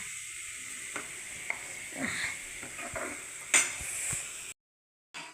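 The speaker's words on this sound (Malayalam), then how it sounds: "എണ്ണയൊക്കെ ഒഴിച്ച് സവാള ഇട്ട് പച്ചമുളകും തക്കാളിയും കരിയപ്പം ഇട്ട് നന്നായിട്ടൊന്ന് വരട്ടി കിടക്കുകയാണ്" Onions, green chilies and tomatoes sautéing in oil with a steady, close sizzle and occasional stirring scrapes, ending abruptly in silence.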